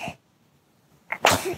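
A single sharp sneeze bursts out after a brief quiet pause, close and loud, preceded by a short breathy intake.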